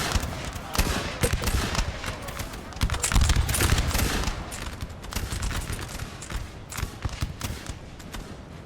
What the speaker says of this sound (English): Oh, the flanking fire.